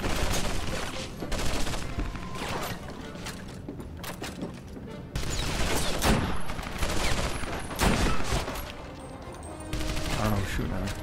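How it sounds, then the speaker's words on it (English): Gunfire in the video game Medal of Honor: Vanguard, with repeated bursts of shots and rattling automatic fire in uneven clusters, loud and close, broken by short lulls. "I don't know who's shooting at me"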